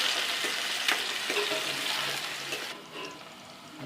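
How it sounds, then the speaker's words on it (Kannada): Onion and tomato fry in hot oil in a pan while chicken sukka is cooked, giving a steady close sizzle with a few stirring clicks that eases off near the end. "ಉಳ್ಳಾಗಡ್ಡಿ, ಟೊಮೆಟೊ, ಸ್ವಲ್ಪ ಇದು ಕೆಂಪಾಗುವವರೆಗೂ ಹುರಿಯಿರಿ."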